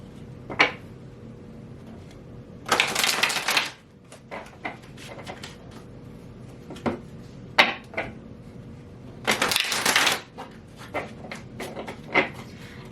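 Tarot cards being shuffled in a few brisk riffling bursts, with softer taps and card handling between them, close and fairly quiet with no talking.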